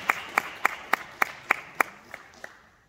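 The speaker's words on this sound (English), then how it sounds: "So give yourselves a round of applause for showing up." Slow, evenly spaced hand claps, about nine in a row at an alumni gathering, crisp and fairly close, thinning and fading at the end, with no voices over them.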